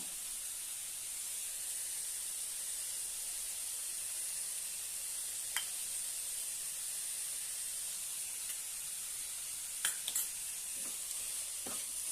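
Grated sweet potato sautéed with coarsely crushed peanuts in a pan, a soft, steady hiss of frying with a few light spatula taps and scrapes, fairly quiet and without speech.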